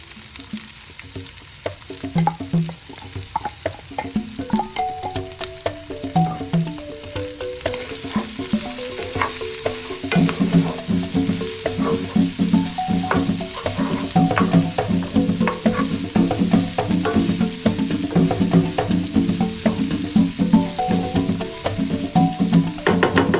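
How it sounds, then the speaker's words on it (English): Continuous crackling sizzle of chicken and diced onions frying in a hot pan, with occasional scraping and stirring clatter, close and steady. "So the chicken is frying so well, so right now we're just gonna add all the diced onions."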